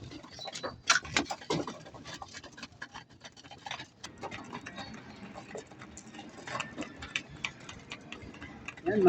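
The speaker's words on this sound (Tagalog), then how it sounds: "Gutom na gutom yung aking kalapate." Hungry pigeons feed close by, with soft scattered pecking taps and light fluttering, a faint rustle and occasional coos over a quiet background.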